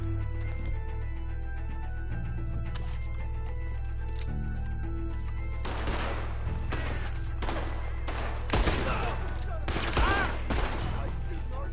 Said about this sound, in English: Nice shooting, Arthur.